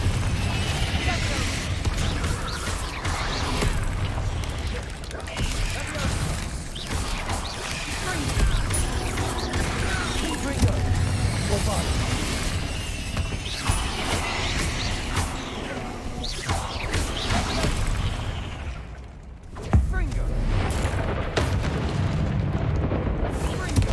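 Confringo blasting spells fire repeatedly in the Hogwarts Legacy video game, producing booming explosions and crashing impacts in a dense, continuous battle mix while a voice shouts spell names over the action.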